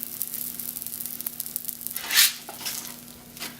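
Pumpkin pancakes frying in a pan with coconut oil, giving a steady soft crackling sizzle with a faint hum underneath and one brief louder hiss partway through.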